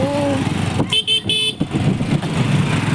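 Busy road traffic near the crowded Chunchanakatte Falls, with a steady engine rumble and a cluster of three sharp car horn honks in the middle, fairly close and loud.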